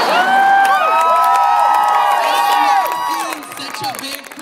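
A large outdoor crowd at a student Occupy protest rally cheers, whoops and shouts loudly and continuously, with voices rising and overlapping before the noise gradually tapers off.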